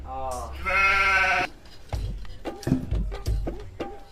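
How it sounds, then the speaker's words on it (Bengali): A goat bleats in a long wavering cry while being fed, followed by people talking nearby over quieter rustling. "এ না ছাগল খাবার দি"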